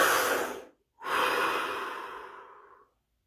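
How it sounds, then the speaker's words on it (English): Two slow, deep breaths taken during a guided meditation session, each a long airy exhale close to the mic, separated by a brief silence. The second breath trails off gradually. "Deep breaths."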